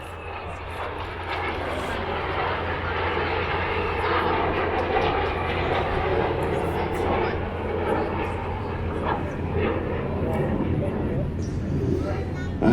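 RAF Red Arrows jet aircraft roaring past at the Canadian International Air Show, a steady, loud broadband jet rumble sustained throughout with crowd ambience and a commentator's voice over it.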